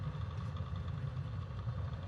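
A Bonanza G36 engine in the MSFS flight simulator idles steadily with a low, even drone and a faint mechanical hum, continuous and alone.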